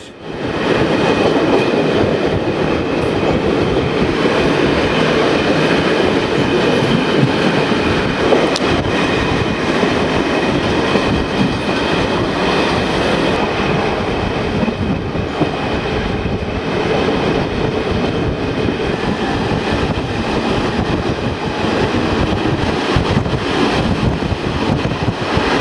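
A passenger train hauled by a D397 locomotive runs on an electrified single-track line near Sisak, Croatia, on the Zagreb–Sarajevo route in 2012, heard from aboard as a loud, continuous rumble with rhythmic wheel clatter and wind buffeting throughout.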